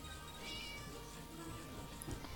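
A cat meowing in the video game Scary Teacher 3D, a faint, quiet game sound under low background noise, with a voice talking softly at times.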